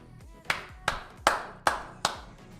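Five loud, evenly spaced hand claps ring out one after another in a quiet room during a live trading stream, each sharp and close with a short decay.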